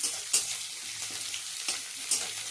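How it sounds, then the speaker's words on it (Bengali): Onions frying in a pan with panch phoron, pumpkin and green chilli after a fish head was fried, a close crackling sizzle with occasional stirring strokes, no talk. "পাঁচ ফোড়ন কুমড়ো লঙ্কা আর পেঁয়াজ দিয়ে পেঁয়াজটা ভালো করে ভেজে নিই"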